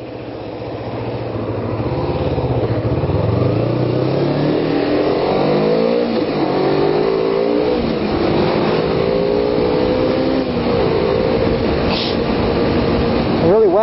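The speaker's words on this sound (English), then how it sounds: "I'm really whacking on the throttle, but we're hardly going at any speed" A Kawasaki Ninja 250 motorcycle engine climbs in pitch under hard throttle on a quiet road, its whine rising and shifting through gears, loud and continuous with wind noise.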